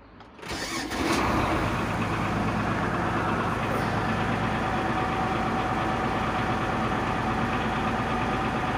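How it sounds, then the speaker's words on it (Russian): An MTZ 1523 tractor with about 3346 engine hours starts with a brief cranking burst, then settles into a loud, steady, even diesel idle heard up close for the rest of the clip. "Заводится трактор отлично."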